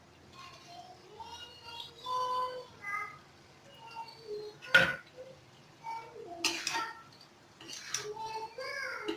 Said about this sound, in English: So now we are going to mix the potato.